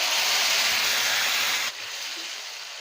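Spice paste for palak hits hot oil in a pan with a loud, broad hissing sizzle that drops abruptly to a softer, steady fry partway through.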